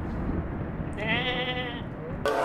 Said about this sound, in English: Ooh, I heard a goat.